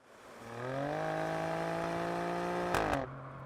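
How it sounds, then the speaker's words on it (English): An Alfa Romeo Stelvio Quadrifoglio SUV with a 2.9-litre twin-turbo V6 in race mode revs up steadily and loudly, rising in pitch, then a sharp crackling upshift interrupts before the engine settles at a lower note. "what this sounds like going through the gears in race mode"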